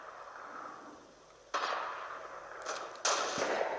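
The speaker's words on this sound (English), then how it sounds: "I hear gunshots all over the place" Gunfire in the video game Fortnite, heard as two sharp bursts of shots over a steady background wash, with a few softer cracks between them.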